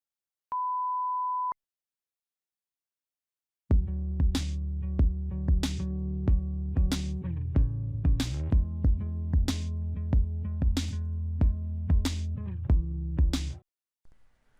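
A song plays through a phone's tiny built-in speakers, with steady bass, regular drum hits and sustained tones for about ten seconds, preceded by a short test beep and silence.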